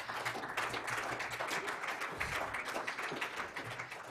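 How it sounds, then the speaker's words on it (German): Applause from an audience at a German medical conference, a steady, soft patter of many hands clapping that holds evenly for about four seconds and sounds somewhat distant. "einmal bitte herzlichen Applaus"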